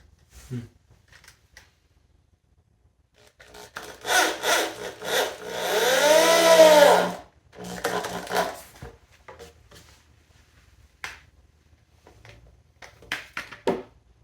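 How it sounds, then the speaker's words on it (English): A power drill whirs in a few bursts, rising in pitch as it drives a screw into wood, with a longer final run; quiet handling noises between. "I'm going to take my drill and hope for the best."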